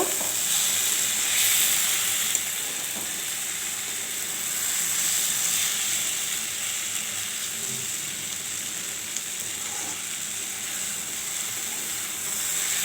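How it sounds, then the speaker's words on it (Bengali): Fried small fish being gently folded into a sizzling ridge gourd curry in a pan, a steady hissing sizzle with faint scrapes and stirring clicks throughout. "এখন দিয়ে দেব এই ভেজে রাখা মাছগুলো। এইভাবে আস্তে আস্তে করে মিশিয়ে নেব।"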